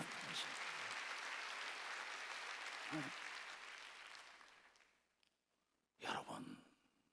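A church congregation applauds during a Korean Sunday worship service, steady clapping that fades out and leaves near silence, then a short loud burst of sound near the end.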